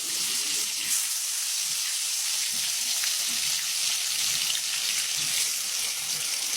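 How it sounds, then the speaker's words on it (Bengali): Pieces of chicken sizzle and crackle in hot oil in a kadai, a constant bright frying hiss with scattered pops, steady and close. "চিকেন দেওয়ার সাথে সাথে তেলটা একদম গরম যেটা ফুটে উঠেছে"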